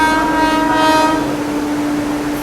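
Sampark Kranti Express led by a WP7 locomotive passing close by, a loud steady rumble with a sustained horn tone at the start that fades as the train rolls on.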